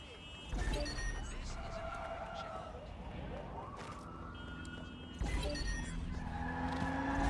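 A hacked car skids in the Watch Dogs Legion video game, with a sustained tire squeal and engine roar, a second loud skid surging in near the end, dense game sounds throughout.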